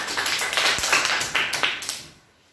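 A group of children clap for a classmate in a classroom, a quick patter of claps over about two seconds that thins out and fades toward the end.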